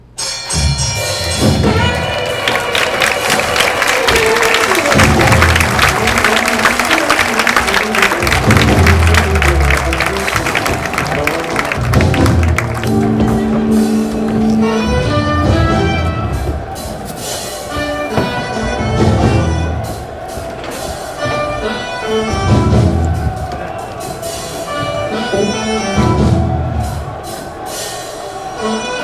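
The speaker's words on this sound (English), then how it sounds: "That's the roar of the crowd." A large stadium crowd of thousands roars continuously overhead, muffled and rumbling with scattered clapping, surges and dull thumps throughout.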